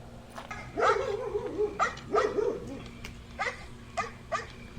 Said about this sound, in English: As you can hear, the dog is still here